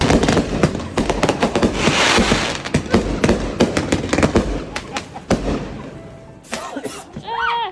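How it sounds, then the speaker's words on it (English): Neighbours' New Year's fireworks burst outdoors in Arizona, a dense run of loud cracks and booms in rapid irregular succession, thinning out toward the end with whistling rockets rising. "Thanks to the neighbors, we got quite the fireworks show."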